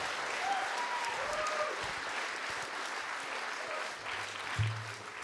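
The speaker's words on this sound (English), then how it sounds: "I think this man needs another round of applause" A concert audience applauds a musician at the Strule Arts Centre in Omagh during a music legends weekend, a sustained wash of clapping across the hall with a faint whistle or two rising above it.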